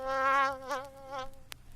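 A bee buzzing close by in a strongly pitched, wavering drone that swells and fades in three short pulses, followed by a faint click.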